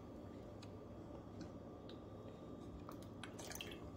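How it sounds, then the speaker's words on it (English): A teaspoon of vinegar goes into red velvet cupcake batter with faint, quick drips and a light trickle over a soft kitchen background, with no talking. "now I'm going to put another teaspoon of some vinegar"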